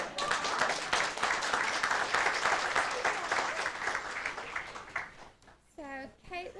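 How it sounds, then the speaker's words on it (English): Applause at a school board meeting, a sustained round of clapping from the room that fades after about five seconds, followed by a person speaking briefly near the end. "let's give Ashley's mom a big round of applause"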